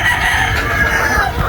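Young stag roosters cluck and crow close by in a loud, continuous burst of overlapping calls, with no talk.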